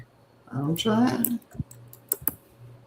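A few sharp, separate keystrokes tap on a computer keyboard just after a voice speaks briefly; the clicks are close and crisp against a quiet background.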